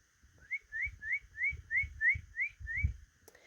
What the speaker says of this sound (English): It sounds like the birds are already talking about it this morning.